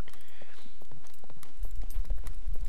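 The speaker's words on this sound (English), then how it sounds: "Going by the footsteps, sounds like they're in the building next door." Footsteps in the game Scum, heavy thudding steps that grow louder and closer partway through, landing in a quick, irregular rhythm.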